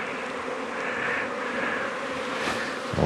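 Honeybees buzz at an opened hive during a colony split and a check for queen cells, a steady close droning hum that holds evenly throughout with no voices.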